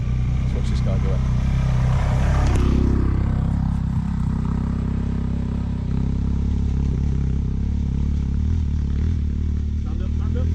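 A big adventure motorcycle labors up a steep dirt trail in the Alps, its engine droning and clattering close by while people talk over it, the strain easing after a few seconds.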